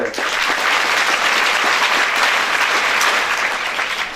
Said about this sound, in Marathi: आपण इथं बसलेल्या सगळ्यांनी मोठ्यानं टाळ्या वाजवून त्या लोकांचं अभिनंदन आपण केलं पाहिजे